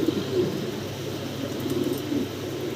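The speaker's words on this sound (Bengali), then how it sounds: "লাহরি কবুতর বিশাল ইম্পোর্টের" Lahori pigeons, an imported fancy breed, coo in soft low repeated phrases close by over a faint background hum, with no one talking.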